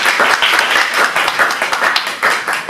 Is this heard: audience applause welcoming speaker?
yes